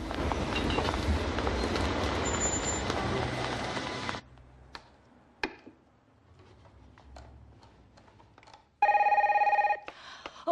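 A telephone bell rings in short bursts at a household scene in Paperboy, dubbed in French. Loud noise fills the first part, then faint ticks and clatter follow, and a bright electronic ring cuts in again near the end.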